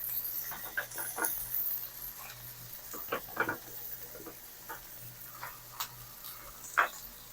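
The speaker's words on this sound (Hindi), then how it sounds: "तो मैं मटन को फ्राई कर लूँ 4 से 5 मिनट" Bone-in mutton fries in a pan for Hyderabadi marag, giving soft irregular sizzles, pops and small clicks of a utensil against the pan, fairly quiet and close, with no voices.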